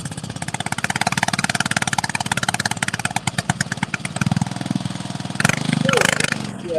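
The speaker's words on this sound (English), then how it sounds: "They're basically just a lawnmower engine, which is really cool." A small lawnmower-type engine in a 1/8 scale ride-on train runs with a rapid, loud, even chugging pulse close by, briefly roughening near the end as a voice speaks.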